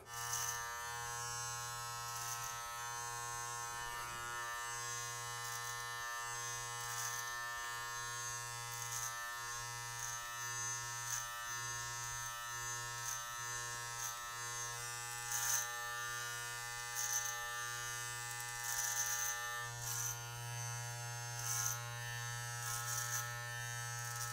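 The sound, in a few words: electric hair clipper cutting hair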